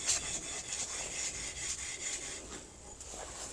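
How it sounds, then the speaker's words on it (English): Fine 240-grit sandpaper rubbed back and forth over wood, a steady, close abrasive scratching with repeated strokes and no talk. "How fine a grit and sandpaper is that, Nathan?"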